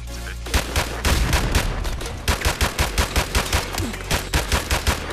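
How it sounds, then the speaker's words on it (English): Rapid automatic gunfire in Call of Duty Modern Warfare Remastered, loud and close, with steady bursts of shots that pause briefly midway and then continue as a quick rhythmic string of cracks. "I just like started blind firing and I got a headshot."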